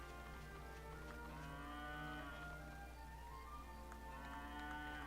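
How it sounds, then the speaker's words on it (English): Cattle lowing in the video game Dragon Quest VIII: a long, sustained cow moo with a steady harmonic drone over a constant background hum, a second moo following, no talk. "Is that the same cow we got before?"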